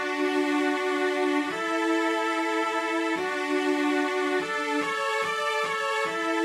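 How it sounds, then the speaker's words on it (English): Sampled cello strings from the default ESX2 cello preset play long sustained bowed notes, each held over a second or more, changing pitch a few times with shorter notes near the end, smooth and moderately quiet. "To create the strings, I just used the default ESX2 cello preset"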